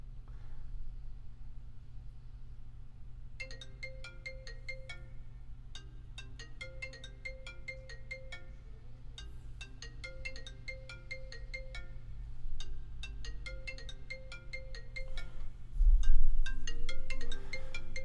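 A melodic phone ringtone plays repeated plucked, chime-like phrases over a low steady hum, moderately faint and continuing on and off for a long stretch without talk.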